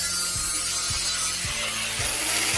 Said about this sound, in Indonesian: Potong sepotong pendek pipa logam tipis.